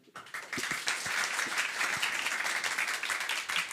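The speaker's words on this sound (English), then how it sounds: "let's give our moderator and our panelists a big round of applause" Steady applause from a crowd at a panel discussion, many hands clapping together in a dense, continuous wash that holds for several seconds.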